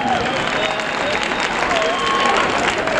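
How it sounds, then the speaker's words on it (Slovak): A concert audience applauds steadily in dense, loud clapping with crowd murmur mixed in, a continuous wash of hands filling the hall throughout. "Nedáte si pokoj s tým tleskaním"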